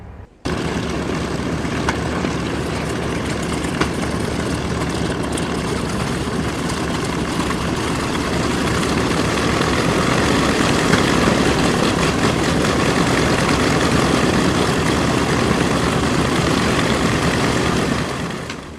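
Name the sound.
propeller airplane engine running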